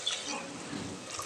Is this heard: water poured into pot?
yes